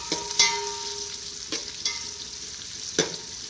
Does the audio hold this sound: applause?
no